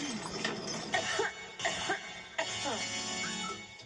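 A few short, harsh coughs burst out at intervals over a steady background of voice and sound.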